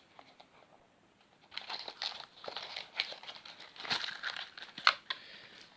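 Crinkling plastic and paper as a Yu-Gi-Oh! card display box is opened: faint at first, then a close run of crackles, tears and rustles with sharp bursts, no talking.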